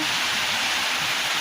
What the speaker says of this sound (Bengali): কারণ বাইরে বহুত বৃষ্টি হচ্ছে।